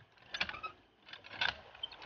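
A manual poso hand water pump on a deep well being worked, with faint squeaky mechanical creaks and clanks in a loose rhythm, quiet and slightly distant.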